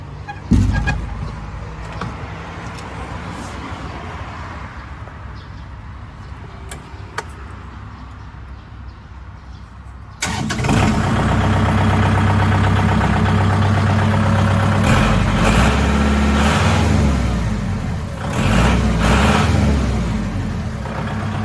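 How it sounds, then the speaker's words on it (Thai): Quiet ticking and clicks at first, then a Kubota L5018DT used tractor's diesel engine starts up and runs with a loud, steady chugging rumble until the end. "เดี๋ยวเรามาฟังเสียงเครื่องกันนะครับ"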